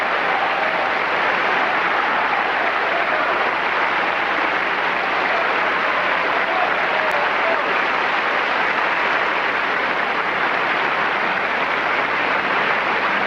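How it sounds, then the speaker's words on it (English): Concert audience at Avery Fisher Hall applauding Luciano Pavarotti and James Morris in 1983, a dense, steady wash of clapping filling the hall for the whole stretch with no breaks. "accepting the applause of the audience at Avery Fisher Hall"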